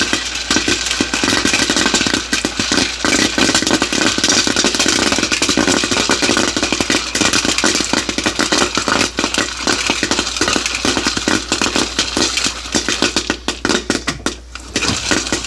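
Popcorn popping in a hand-cranked stovetop popper, a dense, loud, continuous rattle of kernels bursting and clattering against the metal, close up and going on throughout without talk.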